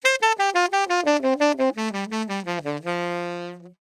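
Saxophone playing a major scale lick alone and up close: a quick run of about fifteen tongued notes stepping downward, ending on one long held low note that fades out.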